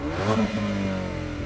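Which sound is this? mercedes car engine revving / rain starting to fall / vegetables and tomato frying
mercedes car engine revving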